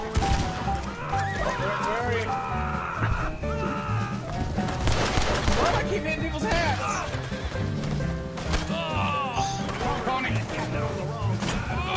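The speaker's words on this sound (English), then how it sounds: "I was stabbing my horse for stamina." Horse neighing and whinnying in Red Dead Redemption 2, loud and repeated over a busy game soundscape with hoofbeats, gunfire-like bangs and people talking.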